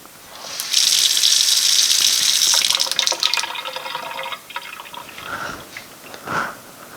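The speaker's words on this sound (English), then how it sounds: "It's great for anything else that you need to do with water in your sink." Water gushes loudly from a sink tap for a few seconds, then slows to a thinner trickle with a few splashes and drips.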